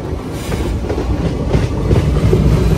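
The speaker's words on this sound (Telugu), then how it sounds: "ఏదో లోకోమోటివ్ ఉంది. ఏం లోకోమోటివ్?" An Andaman Express passenger train hauled by an Itarsi-shed locomotive rolls along steadily, with a continuous loud rumble and clattering wheels on the rails throughout.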